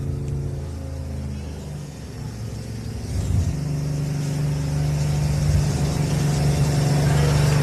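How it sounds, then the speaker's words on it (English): A race truck at the Loveday 400 revs its engine in the background, a low droning rumble that builds and holds steadily louder over the last few seconds. "that would be the sound of the Waitley truck you might hear in the background here trying to"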